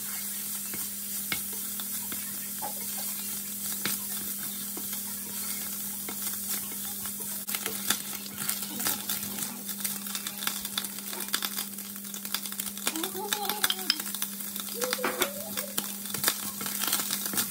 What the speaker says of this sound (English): So I'm going to fry my shrimps